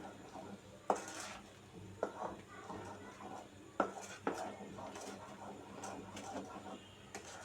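A spatula scrapes and taps against a pan while chana dal halwa is stirred with sugar over medium-low heat, faint irregular knocks and scraping in a quiet kitchen.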